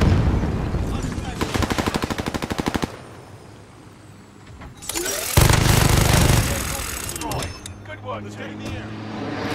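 Rapid bursts of automatic gunfire in a video game ring out as players shoot at a helicopter, two long loud volleys separated by a quieter stretch, with engine noise and people talking over the shooting.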